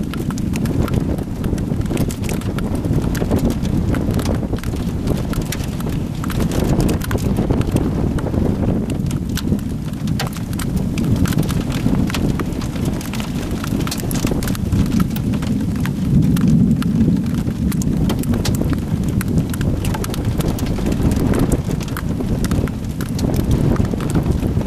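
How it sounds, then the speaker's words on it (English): Hail rattles down in a dense, continuous clatter during a rain-wrapped tornado storm in open country, loud and close, mixed with heavy wind buffeting against the microphone. "There's hail falling."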